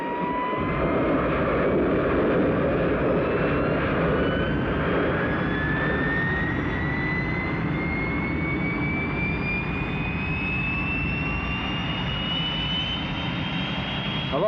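A jet aircraft roars steadily through its takeoff run, a loud continuous engine rumble with a rising whine that climbs in pitch over the full length, no talk.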